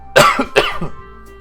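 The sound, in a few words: cough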